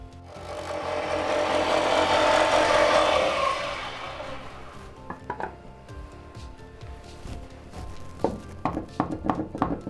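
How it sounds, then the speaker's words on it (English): A disc sander grinds down a wooden zero-clearance table saw insert, a rising, swelling rasp for about four seconds that then fades, followed by scattered light wooden knocks and taps. "So I'll go back to the disc sander, sand that little bit off"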